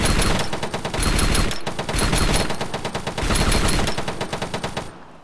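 Sustained automatic gunfire in the military game Arma 3, loud and close, with rapid rhythmic bursts in two long volleys separated by a brief pause, then cutting off abruptly.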